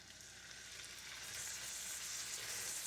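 Shrimp fry in a pan until crusted, a steady close hiss of sizzling oil that swells slightly louder midway and holds, with no talking.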